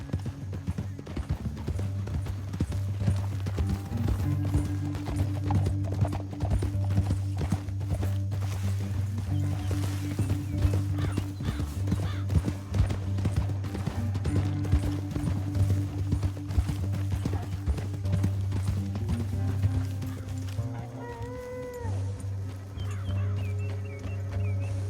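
Horse hooves clip-clop steadily through a Red Dead Redemption 2 ride, with a low droning score and ambient sounds throughout, the rhythm continuous and fairly close.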